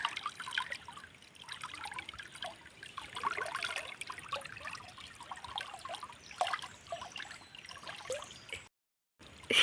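Water spurts up from a pit in a steady trickling, splashing flow, close and fairly quiet, with a brief silent gap near the end.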